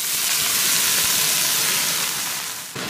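Chinese chives hit hot oil in a wok over high heat, where garlic is already browning, giving a loud, steady, close sizzle and hiss throughout with a brief dip near the end.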